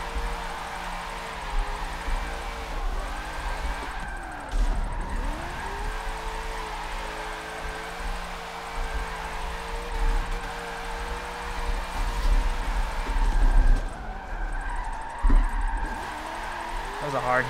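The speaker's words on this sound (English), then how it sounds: "I want to kick myself back into Forza Motorsport 7 drifting" Car drifting in the racing game Forza Motorsport 7, a continuous engine drone with revs rising and falling and tyre noise, under a voice talking through much of it.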